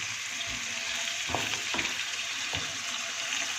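Chopped onions frying in oil on a medium to high flame for a chicken karahi, a steady close sizzle with a few soft stirring scrapes and clunks, no talking.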